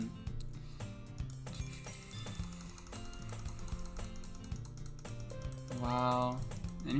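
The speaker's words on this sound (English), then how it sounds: "I know you guys can hear my furious, like, clicking." Rapid, furious clicking and key tapping sound up close during a computer game, with a person talking and soft background music.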